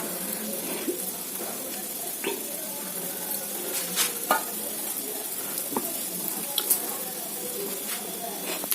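Dosa batter with onions frying on a hot griddle gives a steady close sizzle, with scattered scraping clicks and small taps as the spatula works over the surface.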